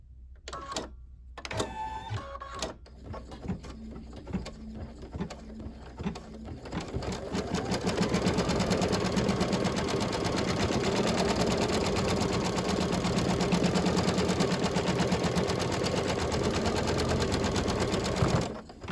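An embroidery machine stitches around a St. Patrick's Day coaster design, starting with a few separate clicks and short runs and then settling into a fast, steady, close mechanical chatter with no voices.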